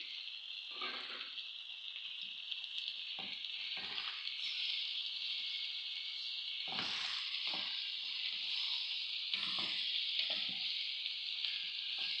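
Two grated tomatoes go into a hot pan with oil, giving a steady bright sizzle with repeated scraping and stirring sounds over it, close and moderately quiet.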